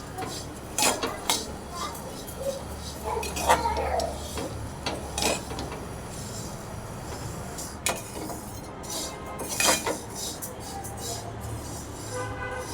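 Flaxseeds roasting in a pan over a low flame, stirred with a utensil: scattered metallic clinks and soft scraping strokes sound close but fairly quiet over a faint background hiss, with a few sharper taps spaced unevenly.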